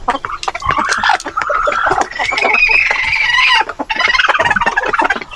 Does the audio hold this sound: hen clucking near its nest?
yes